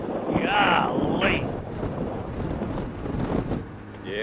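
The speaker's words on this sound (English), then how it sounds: "it is nice and windy" Strong crosswind buffeting the microphone during a Honda Goldwing motorcycle ride, a continuous loud rumbling roar with gusts, under riders talking over the intercom.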